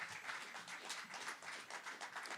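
An audience at an awards gala claps: a busy, even patter of many hands clapping at once, steady and moderately loud throughout.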